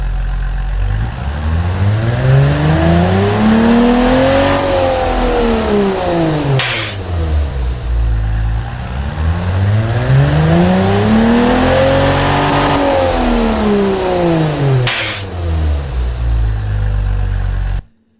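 Car engine in the Automation car company tycoon game revs up and back down twice in smooth sweeping arcs, loud and close, alone with no talk.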